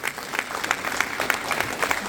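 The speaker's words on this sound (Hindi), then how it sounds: "एक बार सर जी के लिए जोरदार तालियां बजाइए" Steady applause from a gathered audience for a guest at a Sanskrit language event, a dense even patter of many hands at moderate distance, without a break.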